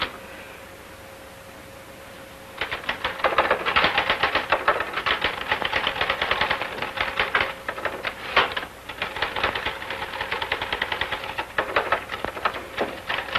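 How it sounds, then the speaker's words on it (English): Rapid, irregular clacking of a 1941-era manual typewriter being typed on furiously, starting after a quiet stretch and continuing loud and close in dense bursts with brief pauses. "You're certainly making that typewriter say uncle."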